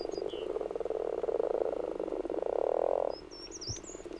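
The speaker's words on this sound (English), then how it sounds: "Grass frogs are mating, but the waters are still very cold" Grass frogs croak in cold spring mating water in the Bavarian Alps, a dense rapid pulsing chorus that swells and then cuts off, with faint bird calls chirping in the background.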